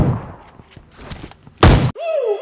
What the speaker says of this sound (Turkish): Bomba attım ama dikkat.